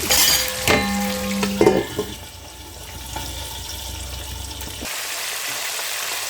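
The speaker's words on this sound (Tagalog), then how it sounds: "na aking piniritong bangus" Milkfish (bangus) frying in a home kitchen pan, a steady crackling sizzle with early louder clatter and splatter bursts, then a continuous even hiss that brightens near the end.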